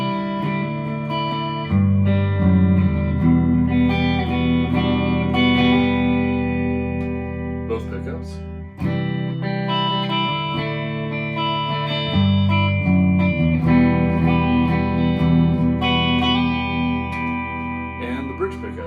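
Squier Jazzmaster electric guitar with hot pickups, played through the neck pickup on a clean tone: sustained chords and ringing notes with a touch of reverb, loud and close, continuing for the whole stretch.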